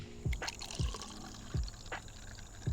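A PB&J fruited sour ale is poured into a glass, giving a run of rhythmic glugging splashes close up with no talking.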